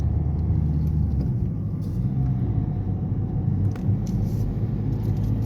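A car accelerates on the road during a driving exam, with a steady, loud low engine and road rumble heard from inside the cabin and no clear rise in pitch.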